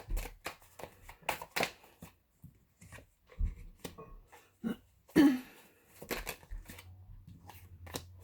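Tarot cards shuffled and drawn during a full moon reading, heard as a run of crisp riffling and snapping card sounds close by, with quiet pauses and a few soft taps and handling noises in between.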